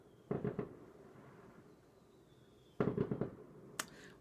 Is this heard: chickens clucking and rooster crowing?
no